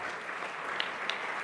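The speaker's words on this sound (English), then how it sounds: "She deserves a round of applause." Brief applause from a gala audience, a soft wash of many hands clapping at a moderate distance, lasting only a moment.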